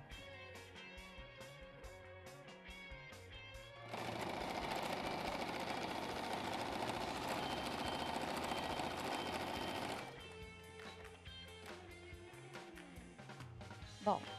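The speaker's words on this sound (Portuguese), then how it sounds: "vou passar outra costurinha aqui por cima para dar um charme" A domestic sewing machine runs a steady, continuous stitch across fabric for several seconds, with quieter handling noises before and after.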